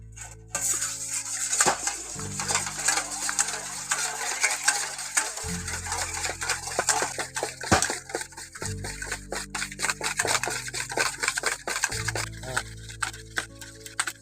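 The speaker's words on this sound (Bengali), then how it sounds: "এখন ডিমের সাদা অংশটা একটু ভালো করে ফেটিয়ে নিতে হবে" Egg whites being whisked in a bowl for a cake make rapid, continuous clicking and tapping, close and busy, with faint tonal hum underneath and no talking.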